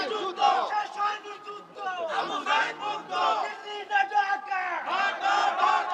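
A large crowd chants back in unison to a takbir call at a religious gathering, loud massed voices rising in repeated surging waves that fill the space for several seconds.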